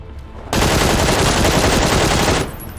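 A single loud, sustained burst of automatic machine-gun fire from the video game PUBG, lasting about two seconds, close and dense, then stopping abruptly.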